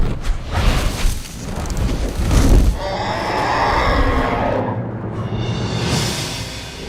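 Dire horse creature call from Avatar, built from walrus and crane sounds: a loud, rumbling low roar swelling midway, then a rough breathy bellow with airy upper grit, sustained close and unbroken.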